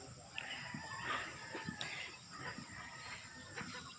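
Chickens cluck and murmur at a distance at a rural poultry farm over a steady background hiss, with occasional sharper calls from the flock.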